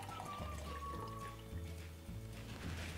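Water is poured into an empty glass, a quiet gurgling trickle with a rising liquid tone as it fills, close but faint, with no talking.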